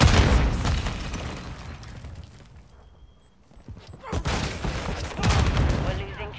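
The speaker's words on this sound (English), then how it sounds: "Grenade." A grenade blast and bursts of rapid gunfire in the Modern Warfare shooter game, loud and dense, with a brief lull midway before heavy firing resumes, under occasional game voice chatter.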